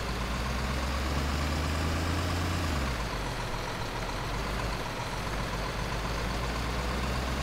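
Truck engine driving in Bausimulator 2015, a steady loud low diesel drone that drops in pitch after a few seconds and keeps rumbling evenly throughout, with no talk over it.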